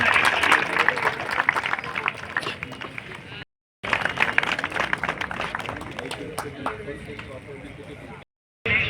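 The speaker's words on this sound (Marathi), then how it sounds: "एक वेळ जोरदार टाळ्यांचा गजर या स्वागतासाठी याही सन्मानासाठी" An audience at the opening ceremony of a T10 cricket championship applauds to welcome and honour a team owner. The clapping is loud, dense and steady, with crowd noise mixed in, and cuts out twice in short silences.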